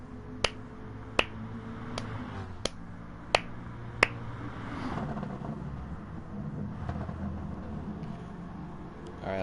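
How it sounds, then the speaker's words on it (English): A slow clap in Gran Turismo Sport: six sharp, evenly spaced claps about a second apart over a low car-engine hum, with the engine rumble rising after the claps stop. "Give you a slow clap for that one."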